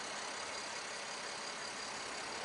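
A BMW 325i convertible's engine runs smoothly at idle, a steady, even hum with no voices over it.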